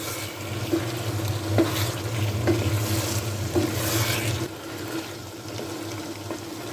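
Finely chopped potatoes and keema fry and get stirred in a pan, a steady close sizzle broken by scraping strokes of the spoon, with no talking.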